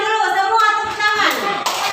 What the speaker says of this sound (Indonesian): Dulu semua tepuk tangan.